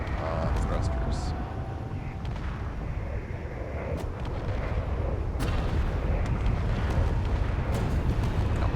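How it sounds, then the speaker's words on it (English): Space Engineers enemy station gunfire battering thrusters comes through as dense continuous rumbling bursts and booming impacts that fill the whole stretch, loud and steady, with a few sharper cracks on top. "they're shooting me, and they're screwing me over, and they're messing me up, and they like shooting my thrusters"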